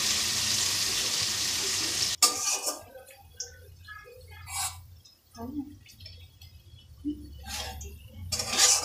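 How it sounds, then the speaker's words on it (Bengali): Paneer fries in a kadai, first as a loud continuous sizzle, then after a sharp clatter as quieter crackles, stirring scrapes and sporadic spits. "দেখো পনিরটা ভাজা হয়ে গেছে"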